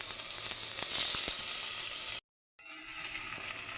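Fresh mint leaves sizzle steadily in a hot pan while cooking down for a jackfruit dum biryani, a close, bright hiss broken by one brief silent gap before it resumes.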